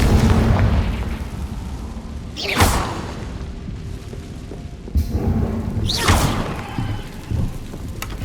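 Confringo blasting spell in Hogwarts Legacy: two whooshing, crackling fire bursts about four seconds apart, set over a constant loud rain-like roar of game ambience.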